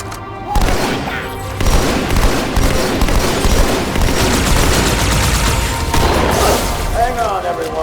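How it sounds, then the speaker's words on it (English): A plasma grenade blast in the Halo 2 Anniversary video game erupts among dense rattling gunfire and booms, loud and continuous, with a voice talking over the battle. "Walked right into that plasma grenade, it stuck to my face."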